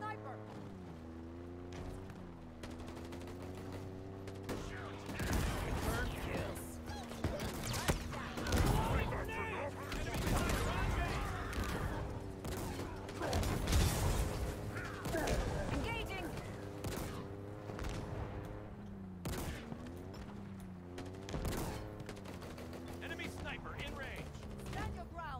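Gunfire in a Halo Infinite firefight on Legendary campaign: rapid bursts and sustained volleys of weapon fire over a droning orchestral score, with voices calling out amid the shooting.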